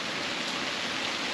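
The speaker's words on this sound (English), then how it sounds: "Rain and thunderstorms." Steady rain falls outdoors at a country manor during a stretch of stormy weather, a soft, even hiss of drops that never lets up, with no talking.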